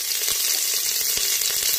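Green chillies and grated ginger sizzle in hot oil as a tempering for khichdi, a steady loud crackling hiss with small pops throughout.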